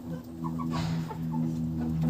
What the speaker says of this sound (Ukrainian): Чуєте, як кричать кури?